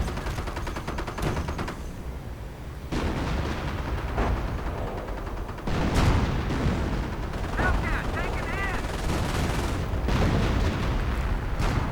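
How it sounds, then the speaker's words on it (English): Strategy-game battle with a mounted .50 caliber machine gun firing alongside an artillery barrage, steady rattling gunfire and repeated booms throughout, with a commentator's voice faintly audible underneath. "Lots of artillery, in fact, at the moment. Could even be a creeping barrage."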